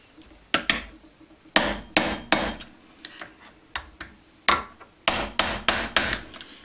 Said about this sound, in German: Ihr seht, wir treiben das Lager schon langsam raus.